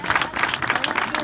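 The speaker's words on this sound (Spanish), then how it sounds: "Un aplauso grande para Ernesto, para el míster." A crowd at a memorial plaque presentation gives a big round of applause for a coach, dense, continuous clapping that is loud and close throughout the brief stretch.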